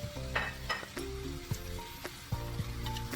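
Food sautéing in a pan for a homemade Salisbury steak, with a steady close sizzle and frying crackle running throughout, broken by a few soft stirring scrapes and clinks.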